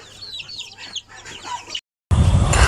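Domestic chicks of a native breed clucking and chirping at a poultry farm, a busy close chorus that breaks off briefly before a louder burst of flock noise.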